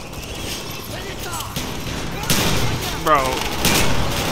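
Close-range shotgun fire in the Black Ops 1 campaign, a few sharp blasts with rattling mechanical clatter amid other game noise, with someone talking over the action.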